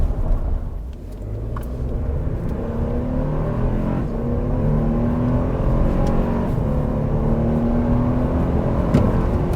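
A 2022 Toyota Tundra pickup accelerates hard from a standstill toward 60 mph, its engine note rising in repeated climbing sweeps as the 10-speed automatic shifts, heard from inside as a steady, swelling rumble with no talk.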